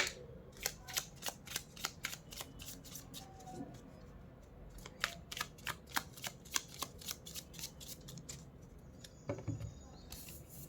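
Tarot cards are shuffled by hand in a quiet room, giving a rapid, regular series of crisp riffling snaps and flicks, close up, with soft handling noises in between.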